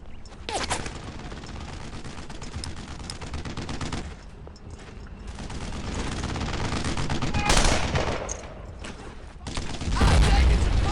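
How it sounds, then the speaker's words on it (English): Sustained gunfire and explosions from the World War II shooter Brothers in Arms: Earned in Blood, dense and loud throughout with heavier bursts near the end, under a busy battlefield mix. "I'm taking some fire here!"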